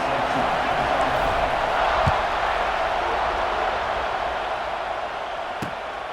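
A packed stadium crowd roaring in the NCAA 26 college football video game, a dense steady wash of cheering under dancing lights with a couple of sharp thuds, while a commentator talks.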